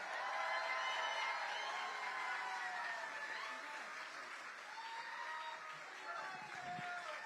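A rally crowd in Austin, Texas applauds and cheers for Williamson County Rep John Busey, with steady clapping and scattered whoops holding at a fairly even level for several seconds.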